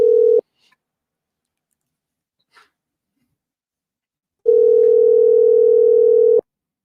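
Telephone dial tone heard when calling someone back: a steady hum sounds briefly, stops for several seconds of near silence with a faint click, then returns for about two seconds before cutting off.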